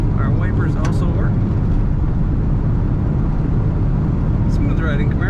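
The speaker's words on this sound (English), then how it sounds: "This car starts right up, purrs very nicely, and is a stock sounding exhaust." A 1978 Chevrolet Camaro with stock exhaust cruises at about 55 mph, its steady low engine and road drone filling the cabin continuously, with brief bits of speech near the start and end.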